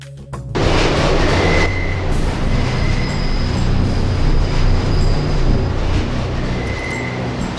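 A subway train rumbles steadily through a station in the video game Deus Ex, loud and continuous, with brief high squeals from the wheels or brakes over the low drone.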